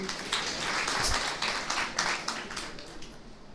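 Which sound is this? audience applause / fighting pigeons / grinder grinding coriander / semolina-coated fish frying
audience applause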